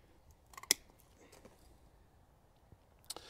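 A single sharp snip of pruning shears cutting a shoot on a young UFO-trained cherry tree, crisp and close, followed by a quiet pause and a faint second click near the end.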